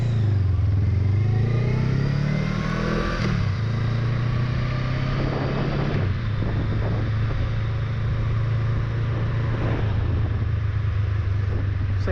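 A Honda Rebel 500 motorcycle rides around the block, its engine rumbling loud and close, revving up early, dropping with a gear change, then droning steadily with some clatter and wind.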